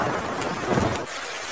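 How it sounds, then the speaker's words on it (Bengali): Steady heavy rain with a rumble of thunder in a cartoon storm scene, a dense wash of downpour that swells briefly before easing, with no voices. "বৃষ্টি পড়ছে"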